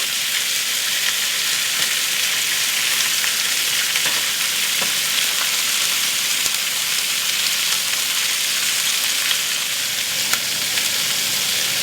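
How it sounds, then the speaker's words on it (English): Pork chops frying in a pan give a steady, loud, even sizzle with a constant hiss and faint crackles throughout, close up, with no talking. "we're going to cook this for another 3 to 4 minutes to make sure it's a nice golden brown"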